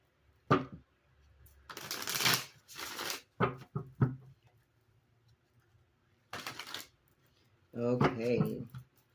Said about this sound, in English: One more shuffle for the Eight of Cups.